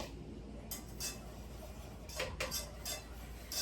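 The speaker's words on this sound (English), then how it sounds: "we're gonna stir continuously for 15 minutes once it gets back to the boil" A spoon scrapes and clinks against a pot while lemon meringue pie filling is stirred, giving a few light metallic taps and scrapes over a low steady background, with no talking.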